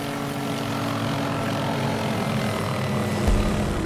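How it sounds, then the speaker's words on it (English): A helicopter's engine and rotor in a video game, a constant dense whirring drone at steady loudness, with a brief low thump near the end. "I'm hijacking the helicopter."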